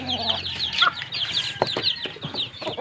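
Young chicks being raised peep in rapid, overlapping high chirps close by, with a few louder clucks mixed in and scattered clicks from their surroundings.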